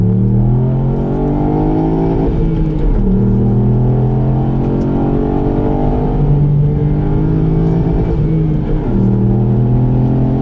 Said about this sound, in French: on va se lancer pour quelques tours sur le circuit du Castellet